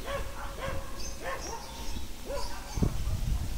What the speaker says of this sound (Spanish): Mucho perro por todo este campo. Mucho perro.